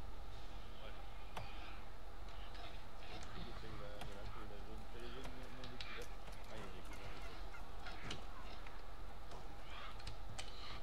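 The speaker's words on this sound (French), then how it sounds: "il y a des dindons" Turkeys in the video game New World gobble and honk in warbling, repeated calls heard faintly within a steady game soundscape, with people talking over them.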